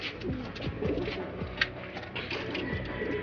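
Pigeons coo at a pigeon loft, repeated soft throaty calls overlapping in a gentle rhythm, close by with a faint background hum.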